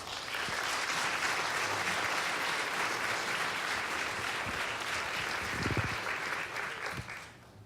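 A live audience welcomes Wayne Kelso to the stage with steady, full-room applause that holds evenly for several seconds before tapering off at the end.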